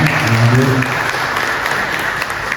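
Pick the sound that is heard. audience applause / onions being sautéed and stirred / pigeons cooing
audience applause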